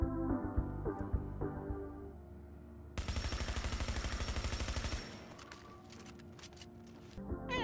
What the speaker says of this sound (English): The Vector in-game has a fire rate of